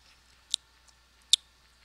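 Two sharp, brief crunches about a second apart, close and fairly loud against near silence, like something crisp being bitten.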